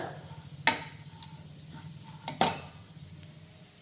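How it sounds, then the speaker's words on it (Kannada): Dry fruits are stirred and fried in a pan for sheer khurma, with a quiet sizzle underneath and a few sharp clinks of a spoon against the metal pan. "ಇವಾಗ ನೀಟಾಗಿ ಇದನ್ನು ಒಂಚೂರು ಫ್ರೈ ಮಾಡ್ಕೊಂಬಿಡೋಣ"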